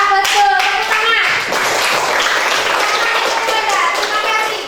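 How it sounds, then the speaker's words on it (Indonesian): Children in a classroom clap their hands together in a dense, steady burst that runs the whole stretch, with young voices calling out over the clapping. "Tepuk tangan."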